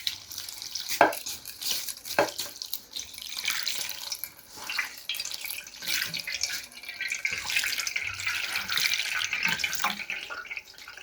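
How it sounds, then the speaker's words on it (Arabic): Water poured by hand over couscous in a pan or strainer to rinse off the starch, a steady close splashing and trickling stream with a few sharper splashes, no talking. "كتشد الماء كتبقاي تكب عليه هكا الماء"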